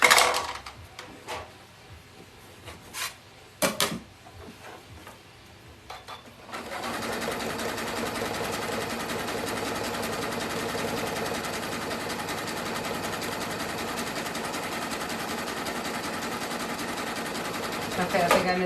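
A sewing machine runs steadily with a wide stitch through clothesline rope for a coaster, starting after a few seconds of sparse handling knocks and continuing as a loud, even buzz to the end.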